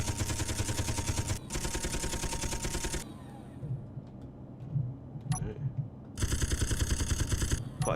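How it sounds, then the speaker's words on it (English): Gatling guns in the game Space Engineers fire in loud, rapid sustained bursts, two long streams at the start, a pause with fainter impacts and rumble, then another burst at the end. "I can use the Gatling guns."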